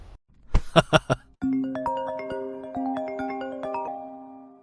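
A phone ringtone plays a bright melodic chime pattern, repeating tones ringing out clearly after a few short thumps at the start.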